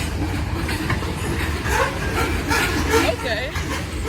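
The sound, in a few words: CN freight grain train passing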